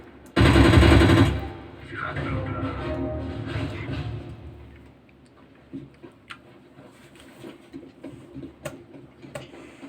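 Automatic gunfire in the video game Counter-Strike: a loud burst at the start, then scattered fainter shots and clicks, with quiet game sounds in between.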